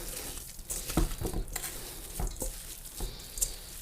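Ground beef for shish kebabs being mixed by hand in a bowl, with soft wet squelches and slaps coming in irregular bursts, close up and without talk.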